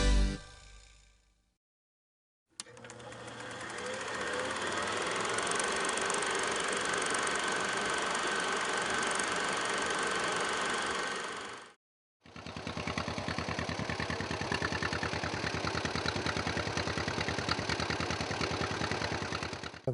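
A John Deere two-cylinder "Johnny Popper" tractor engine idles with a steady, loud, close chugging clatter, broken by a brief silence before the running resumes.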